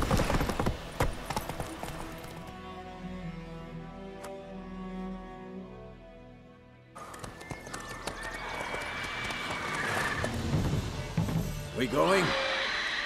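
Roach, Geralt's horse in The Witcher 3: Wild Hunt, neighs and then gallops with loud, fast, close hoofbeats, accompanied by game music and other noise; there is a brief quiet gap before the galloping.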